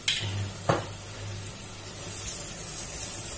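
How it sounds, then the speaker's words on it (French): Onions sweat with a little salt in a hot pan, giving a steady soft sizzle with a brief clink near the start and a short scrape of stirring, close and unaccompanied by voices. "Je vais mettre un petit peu de sel pour aider mes oignons à suer vite fait"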